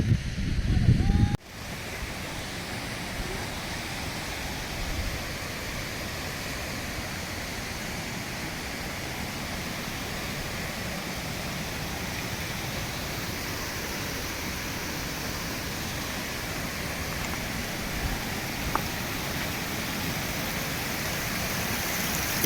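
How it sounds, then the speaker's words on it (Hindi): Steady rushing water from many waterfalls at Sahastradhara in Uttarakhand, a continuous broadband roar that holds even throughout, after a brief louder burst at the very start. "यहाँ बहुत सारे झरने जो है बह रहे हैं"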